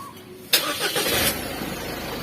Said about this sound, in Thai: สมมติว่าเราสตาร์ทเครื่องอยู่